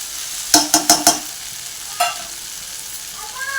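Maggi noodles and egg being stirred in a hot pan, several quick scraping clatters of a spatula in a burst, then a single stir and a soft sizzle underneath, close and without talk.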